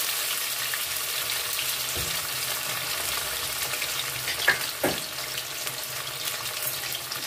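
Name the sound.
chitol fish muitha dumplings frying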